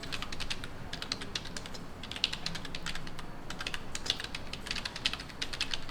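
Rapid keystrokes on a computer keyboard while Korean text is entered, a steady, close clatter of clicks with short pauses and no voices.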